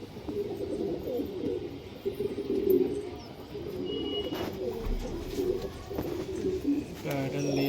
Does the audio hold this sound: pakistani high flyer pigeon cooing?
yes